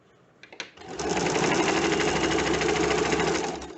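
A home sewing machine runs steadily, stitching elastic along a garment waistline: a brief start-up of clicks, then a continuous, fast, whirring needle rhythm close by, without talk.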